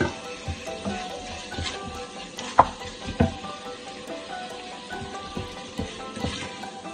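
Onion sweating with lardons in a pan, a steady crackling sizzle with irregular pops and a few louder clatters of stirring, close up and without talking.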